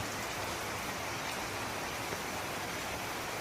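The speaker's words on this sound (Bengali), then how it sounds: "আজ সকাল সকাল দেখতে পাচ্ছেন কত জোর বৃষ্টি" Heavy morning rain pours steadily in Balasore, Odisha, a dense, continuous near hiss of downpour on surfaces with no pauses or voices.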